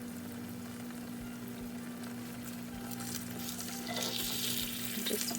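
Eggs fry in a hot cast iron skillet, giving a continuous crackling sizzle that swells brighter and louder toward the end, close by with no talking.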